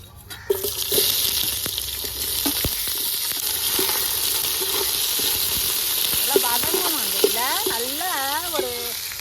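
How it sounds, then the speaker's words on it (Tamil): Sliced onions with green chillies sauté in hot oil for chicken dum biryani, a steady bright sizzle with stirring knocks, while a voice rises and falls over the frying in the later part. "செவக்க வதங்கினா தான் இந்த பிரியாணிக்கு வந்து நல்லா வாசனையாக இருக்கும்"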